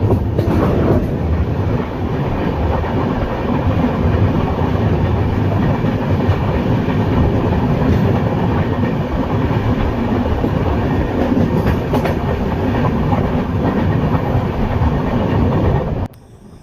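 The Pallavan Superfast Express train rumbles steadily along the tracks at close range, a loud continuous roar with rhythmic wheel clatter, cutting off near the end.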